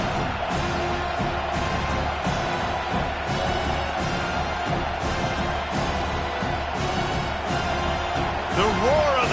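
A college football video game crowd roars to back a defense on a long third down: a thick, continuous stadium din with rhythmic surges and a steady pulse of stomping or chanting, loud and unbroken.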